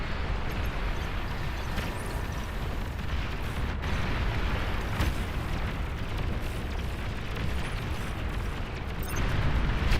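Commander unit blowing up in the real-time strategy game Beyond All Reason, a dense rumbling wall of explosion noise that holds steady and loud throughout, with deep booms and crackling bursts layered on top.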